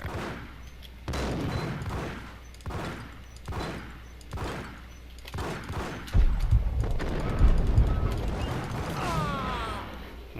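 Gunfire in the video game Max Payne: a rapid run of loud, close shots in a regular rhythm, then a denser, heavier volley with mechanical clatter. No one speaks over it.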